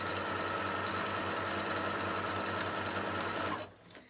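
Sewing machine stitching a 1/4 inch seam on a quilted table runner, a steady, close mechanical whir running continuously for several seconds before stopping abruptly near the end.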